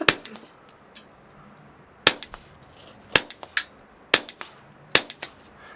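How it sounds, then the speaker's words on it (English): A suppressed .22 pistol fires at an indoor shooting range in Prague, five sharp close reports spaced about a second apart, each followed by faint metallic clinks and echo, with no talking. "It's a 22 with suppressor."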